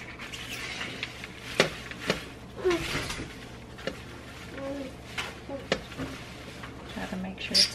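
Oiled kale leaves tossed and mixed in a bowl, giving soft rustling, squishing and light scraping in irregular bursts, fairly close and quiet, with occasional talk.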